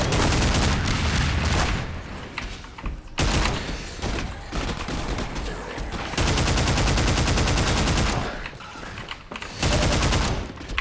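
Heavy automatic gunfire in the video game Half-Life 2: Episode One, loud sustained bursts separated by short gaps, up close and dense, with booming impacts mixed in.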